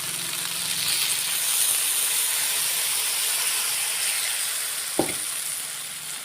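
Water poured into a hot pan while cooking rendang jengkol with quail eggs sets off a loud, steady sizzling hiss that continues throughout, broken by a single sharp click near the end.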